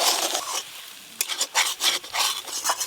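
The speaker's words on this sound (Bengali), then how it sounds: "এবার সব কিছু একসঙ্গে ভালো করে একটু কষে নেব" Mashed potato with banana flower, salt, turmeric, fried coconut and fried chilli is stirred and scraped in a pan, giving repeated rasping strokes in an irregular rhythm, close and fairly loud, with no talk.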